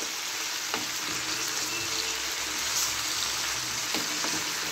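Stems of Malabar spinach (pui shak) fry in a pan, having just been uncovered after cooking under a lid, with a continuous close hiss and a few faint clinks of a utensil.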